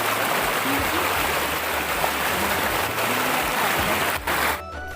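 A river rushes beneath a bridge near where two rivers meet at a picnic spot on the Assam–Meghalaya border, a loud, steady wash of flowing water that persists throughout and fades slightly at the end.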